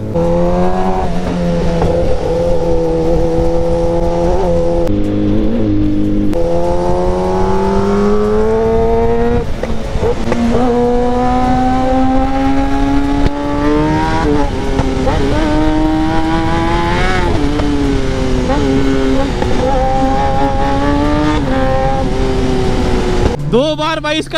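A modified KTM Duke 390 motorcycle with a worn-out rear tyre rides loudly the whole way, its engine note climbing and dropping through shifts with a brief dip around five seconds and a sharp cut at the end.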